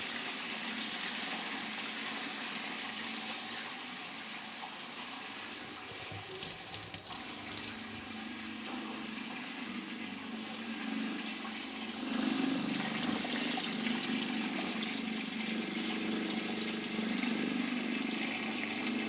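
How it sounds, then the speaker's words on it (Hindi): An electric mixer blends jelly powder into a bucket of water, giving a steady churning, sloshing whir with a continuous rushing wash that swells slightly partway through. "अब ये पाउडर जो है वो पानी के अंदर अच्छी तरह से मिक्सर की सहायता से मिक्स हो गया है।"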